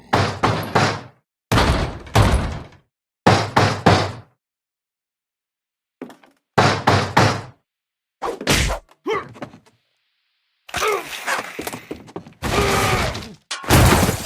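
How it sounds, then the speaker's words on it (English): A long-unopened door in What Remains of Edith Finch makes a string of loud, close wooden knocks and thuds in separate bursts with silent gaps. A harsher, drawn-out creaking stretch comes near the end. "Molly's door hadn't been opened in years. The hinges groaned."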